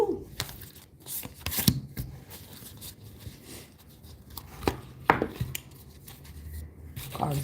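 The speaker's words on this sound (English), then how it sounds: "Cards is crazy to shuffle." A deck of heart-shaped tarot cards is shuffled by hand close up, giving irregular soft riffles and sharp slaps and taps scattered across the stretch, with quiet pauses between bursts.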